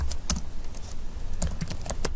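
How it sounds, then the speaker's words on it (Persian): Computer keyboard keys being typed, several uneven clicks in quick bursts, close and fairly clear with faint background hum. "نام ها را تایپ میکنیم"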